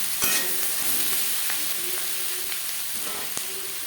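Onion, tomato and red chili powder fry in a pan, giving a steady close sizzle with scattered clicks of stirring against the metal, no voices.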